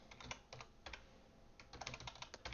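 Quick bursts of keystrokes on a computer keyboard, close and fairly quiet, tapping in uneven clusters with short pauses between them.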